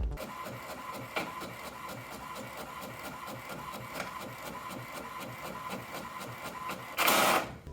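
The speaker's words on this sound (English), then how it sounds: "So we go back and we print again." A printer runs steadily, producing a fast, regular mechanical stepping rhythm with periodic clicks, ending in a brief louder whirring burst near the end.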